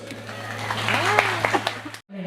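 An audience applauds at an anniversary celebration event, a steady wash of clapping under a loudspeaker voice and a low hum, then cutting off abruptly near the end.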